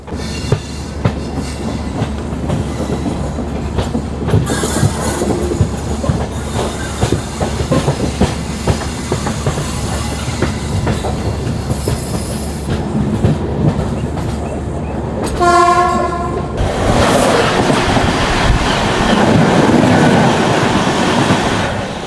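Simhadri Express train 17239 runs at about 130 km/h with a steady, loud rumble and clickety-clack of wheels, then a sharp horn blast rings out near the end before the roar continues.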